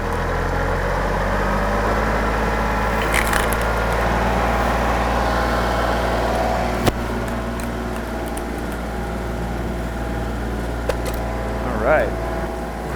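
A tractor engine drives a 3-point log splitter. A low, steady mechanical drone holds throughout with slight swells as it is throttled up, and some faint background chatter.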